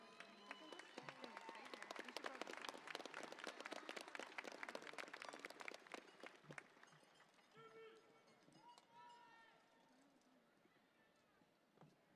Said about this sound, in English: A big applause for our color guard,